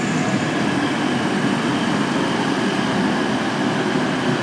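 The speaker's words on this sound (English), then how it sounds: "So here is the stopper from Leeds to Manchester Piccadilly." Stopping passenger train from Leeds to Manchester Piccadilly, a class 185 unit at Huddersfield station, giving a steady broadband rumble and hum close by with no clear breaks.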